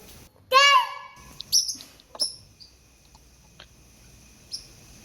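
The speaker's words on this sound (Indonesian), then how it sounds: "Dunia burung, khususnya lovebird, memang tak pernah sepi" Pet lovebirds give a single bright, loud chirp, then a few short, fainter clicks and tweets spaced apart in a quiet room.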